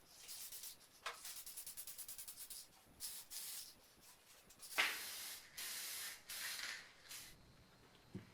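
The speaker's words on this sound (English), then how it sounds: "I'm only giving it 2 lights of primer and base coat because if the paint's too thick," Close bursts of aerosol spray as primer and base coat are applied in light passes to a BMW E30 700 kg emergency jack, a series of hissing sprays with short pauses between them and no talking.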